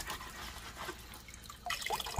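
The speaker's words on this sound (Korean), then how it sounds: "껍질만 이렇게 살살 물로 씻어주세요" Red potatoes have their skins gently washed under running water, a soft, steady trickle and splash from a tap, close by and fairly quiet, with slightly louder splashing toward the end.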